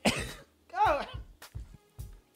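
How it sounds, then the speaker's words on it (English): A hoarse cough near the mic with throat clearing, then a few short dull thumps and quieter coughs spaced through the rest. "Sorry for coughing."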